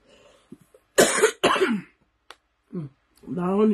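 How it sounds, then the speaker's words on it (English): A single person's cough, heard as a couple of sharp throaty bursts up close, separated by short pauses, with other voices talking around it. "That's a cough on you."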